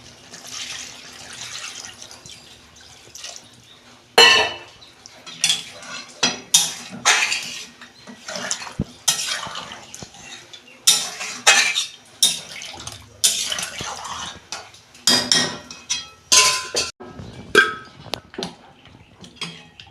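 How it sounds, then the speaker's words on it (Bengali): Water is added to a sautéed mutton curry headed for a pressure cooker, giving splashy pours mixed with sharp metallic pot and utensil clatter in irregular close bursts. "হয়ে গেছে, আমি পরিমাণ মতো জল দিচ্ছি।"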